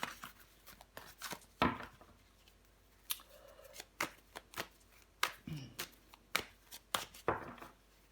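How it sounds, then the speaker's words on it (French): Tarot cards are shuffled and laid out, giving crisp, irregular snaps and slaps, each close and sharp, separated by quiet pauses. "Allez, on va recouvrir des cartes."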